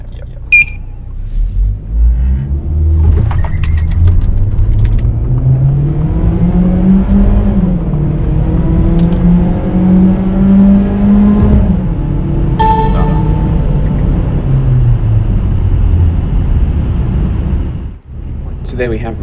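A Saab 9-3 turbo sedan pulls hard from a standstill to 100 km/h, its engine rising steadily in pitch through the gears for many seconds, loud and close from inside the cabin, ending with a sudden drop.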